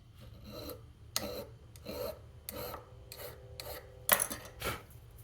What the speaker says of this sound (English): I'm going to use the hand file to take off just a little more.